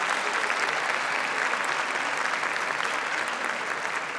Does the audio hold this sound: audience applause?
yes